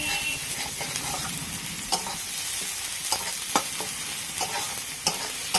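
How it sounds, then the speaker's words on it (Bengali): A spatula scrapes and stirs food briskly in a sizzling frying pan, with a steady sizzle and irregular sharp clicks of metal on the pan, close and loud with no talking. "এটা খুন্তি ঘুরা তাড়াতাড়ি"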